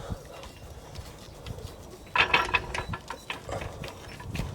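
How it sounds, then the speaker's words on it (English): A car jack under the rear differential of a BMW E90 is ratcheted up, giving a close burst of sharp metallic clicks followed by a few lighter scattered clicks over a low background hum. "Tighten that so it'll actually move the jack up."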